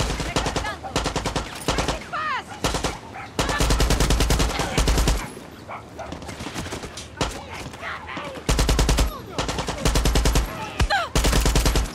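AK rifle firing in Far Cry 6, repeated loud rapid bursts of automatic fire with short gaps between them, mixed with game noise and some speech.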